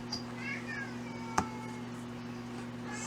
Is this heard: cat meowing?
yes